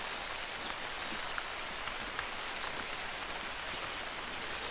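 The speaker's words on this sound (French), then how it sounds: "Ah, ça y est, la pluie est là." Steady rain patters outdoors during a hunt, a dense, even hiss of drops on surfaces throughout, with faint rustling and no voices.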